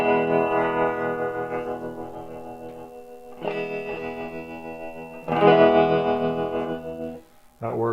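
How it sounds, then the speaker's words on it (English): Electric guitar chords ring out through a Gibson GA-15RVT tube amp with a pulsing, wavering tremolo, struck three times with sustained decays between. "Here's the tremolo."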